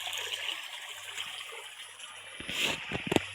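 Water flowing steadily along an irrigation channel, a soft continuous trickling rush, with a few brief splashes and knocks near the end.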